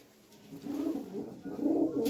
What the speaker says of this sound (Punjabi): ਕਬੂਤਰ ਚੈੱਕ ਕਰ ਲਓ ਬਈ ਉਹ ਦੇਖੋ ਬਈ ਕਬੂਤਰ ਦੇਖੋ